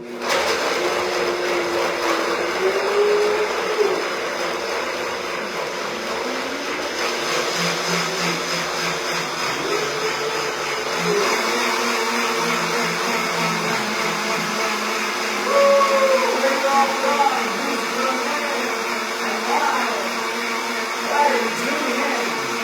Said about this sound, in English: Let's get it on with the blender boogie.